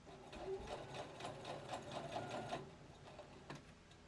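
A sewing machine stitches cotton fabric for a sleeveless wrap top, a steady, close, rapid mechanical whirring that runs evenly before easing off slightly toward the end.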